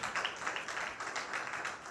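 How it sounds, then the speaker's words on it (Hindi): A church congregation at a Sunday meeting applauds, a steady wash of many hands clapping at moderate, somewhat distant volume with no break. "फिर से अपने खुदावन के लिए तालियां बजाएं जो अपने कामों में गहरा है।"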